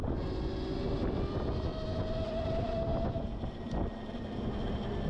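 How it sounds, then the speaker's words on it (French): Murtas TX EVO electric 125 trail motorcycle riding at up to about 60 km/h in eco mode, a steady faint motor whine with a light chain noise under continuous broadband wind and road rush, no speech. "Je vous laisse écouter le faible bruit du moteur."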